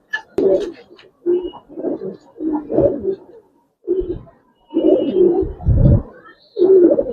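A male Giribaz pigeon coos in repeated bursts close to the mic, each low throaty phrase separated by short pauses, loud and clear with no talk over it.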